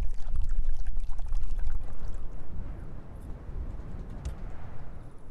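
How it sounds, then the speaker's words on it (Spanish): Irrigation water released through a dam sluice gate rushes freely along furrows in a Bolivian field, a close, continuous splashing and gurgling flow that eases slightly toward the end. "el agua corre libremente por su parcela"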